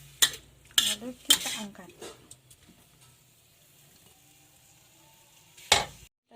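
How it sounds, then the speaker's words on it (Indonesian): Chicken is stir-fried in a pan, with sharp metal spatula scrapes and clanks against the pan in quick bursts over a quiet sizzle, and a voice speaks briefly. "lalu kita tumis ini ya ayamnya dulu guys"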